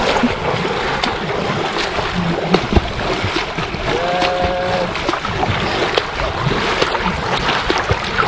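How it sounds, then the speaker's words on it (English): A ferry boat chugs steadily across open water in Trinidad and Tobago, engine rumble blending with splashing waves and wind, continuous and fairly close. "I'll take the ferry back across."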